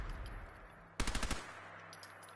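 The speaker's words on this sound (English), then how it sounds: "My Tommy gun." A Tommy gun fires a short automatic burst of about six rapid, loud shots in Fallout 4, over a steady game ambience with no talking.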